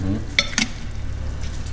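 Beef cheeks fry in an Afghan kazan, giving a low sizzle with a couple of sharp clinks from turning the meat, brief and close with no voices.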